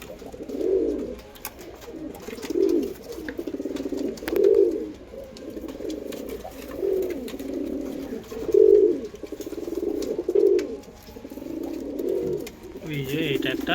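Andra pigeons coo in a steady rhythm, a low, throaty call swelling about every two seconds. The calls are close and moderately loud, with faint background noise.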